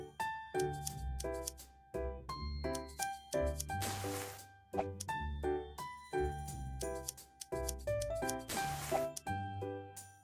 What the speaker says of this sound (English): Move the scissors along the cut line.